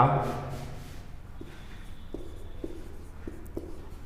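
Chalk or marker writing on a board during a Class 12 chemistry lesson on haloalkanes, short tapping strokes and faint scratches at irregular intervals, preceded by a teacher's voice at the start.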